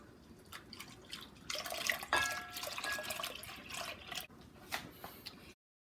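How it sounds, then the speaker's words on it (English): Whole milk pours into a pot of mint hot chocolate as a steady close liquid stream that swells for a few seconds and then trails off into drips, with no talk over it. "next we're going to add in 4 cups of whole milk"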